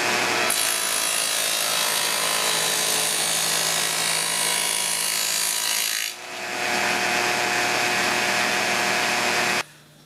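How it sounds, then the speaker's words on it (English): A dado blade cuts a wide groove through a wooden board with a loud, steady whining rip that runs for about six seconds. It dips briefly, continues cutting, then stops abruptly near the end. "Here's the board that I just cut the dado in"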